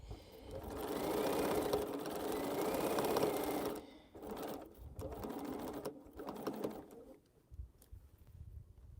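Quilt rows are joined on a sewing machine that runs in a few short, close bursts, the longest near the start, fading to quiet at the end.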